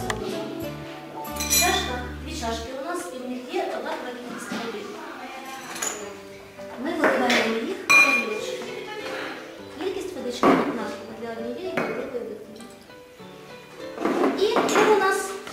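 Dishes and spoons clink and tap repeatedly at close range while a person talks over them, with bright ringing hits scattered throughout.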